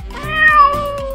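A cat meows loudly and close, one drawn-out, tonal call rising and falling over about a second, with no other sounds around it.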